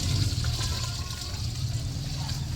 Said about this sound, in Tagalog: Saka natin siya dagdagan ng water.